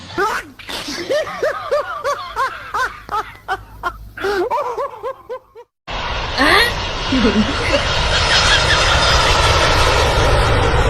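After several seconds of excited voices and laughter, a fixed-wing aircraft passes overhead, its engine rising into a loud sustained roar that fills the rest of the moment.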